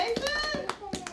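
A few quick hand claps from a small group cheering a young boy, brief rhythmic slaps over children's voices and singing adults.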